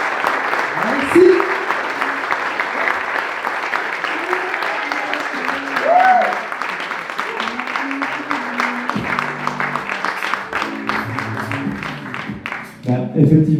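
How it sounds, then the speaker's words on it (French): An audience gives steady applause for a speaker at a club immersion weekend, dense clapping filling the room throughout while voices call and speak over it near the end. "Un tonnerre d'applaudissements, s'il vous plaît, pour Alexis."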